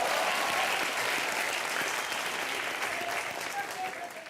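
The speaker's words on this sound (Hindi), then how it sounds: "चेतन जी के लिए एक और बार ताली" Studio audience on a Colors TV comedy show applauding, a dense, sustained clapping roar that holds steady and begins to taper off toward the end.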